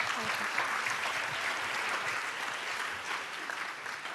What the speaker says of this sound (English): An applause for Monica